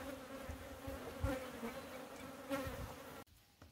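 Italian honey bees buzz steadily around a hive full of honey, a close, continuous droning hum that cuts off abruptly near the end.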